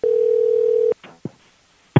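A telephone dial tone holds steady and loud for about a second, then cuts off, followed by a few faint clicks and a short burst of line noise.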